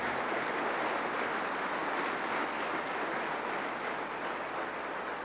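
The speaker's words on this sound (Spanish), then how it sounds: "Dale un aplauso." A church congregation applauding after a prayer, a broad, steady wash of many hands clapping together, sustained and fairly loud from start to finish with no speech over it.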